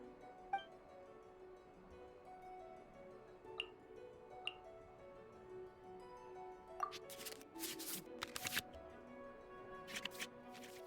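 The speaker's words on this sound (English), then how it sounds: "we can select any number of cards in our hand to shuffle back into the draw pile" Cards shuffled back into the draw pile in the Genshin Impact Invocation TCG card game, heard as a soft, quiet riffling burst of card sounds with a few faint ticks over low background music.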